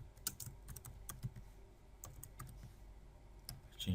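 Keys clatter on a computer keyboard in irregular quick bursts of clicks, quiet and close, while formatting a pivot table in Excel.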